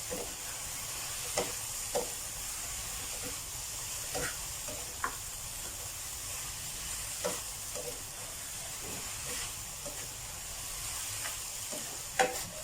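Onions stir-fried in a hot pan, a constant loud sizzle and hiss broken by occasional scrapes and knocks of the stirring utensil, close up with no talking.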